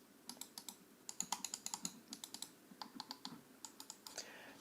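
Crisp clicks of a Logitech G102 mouse in quick irregular runs, close and isolated, with brief pauses between clusters.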